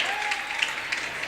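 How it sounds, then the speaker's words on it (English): A student cheering section at a college basketball game between Bethel Pilots and Goshen Maple Leaves makes a brief, steady wash of crowd noise and clapping during free throws, with no clear peaks. "Cheering section having some fun with the free throws."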